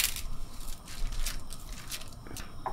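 Roasted reshteh noodles for Persian reshteh polo are snapped into three pieces, giving a few dry cracking and crinkling bursts over a soft cooking hiss.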